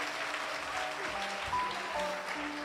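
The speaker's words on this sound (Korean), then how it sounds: "우리 큰 박수로 한번 격려해 주시기 부탁드립니다." A church congregation applauds after a children's performance at a Mother's Day service, a soft, even wash of clapping heard from a distance, steady throughout with faint tones and murmurs mixed in.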